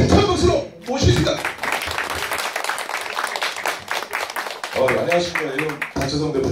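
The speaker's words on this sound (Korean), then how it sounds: "주식회사 영웅 BHA 박재성 대표이사님을 힘찬 박수로 모시겠습니다." Audience claps for a company CEO as he comes on stage at a corporate MOU signing event; steady applause fills the middle stretch, with an announcer talking briefly at the start and again near the end.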